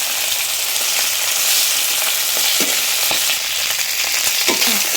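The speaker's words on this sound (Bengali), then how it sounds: "মাথাটা ভাজা হয়ে গেছে, আমি পুরো ধনে থেকে ভালো করে ভেজে নিয়েছি" Fish head frying steadily in hot oil for a Bengali muri ghonto, a close, continuous crackling sizzle with a few faint stirring scrapes and no talking.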